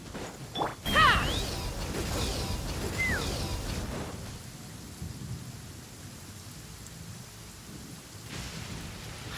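Rain pours and thunder rumbles and cracks loudly near the start during a lightning storm in Genshin Impact, settling into a steady hiss of rainfall; a voice briefly reacts.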